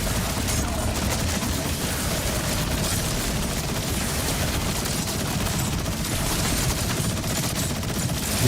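Sustained SMG fire in Borderlands 4 roars as a dense, unbroken stream of rapid shots mixed with explosive rumble, loud and close from start to finish.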